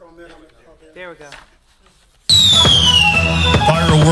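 A Fourth of July fireworks show at the Florence Soccer Complex: after a stretch of quiet talking, loud bursts erupt suddenly, with whistling rockets and crackling blasts layered densely together.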